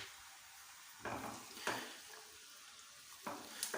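Finely chopped cauliflower fries in hot oil with a quiet sizzle. A spoon stirs it now and then with soft scraping bursts, and light clinks come from the pan.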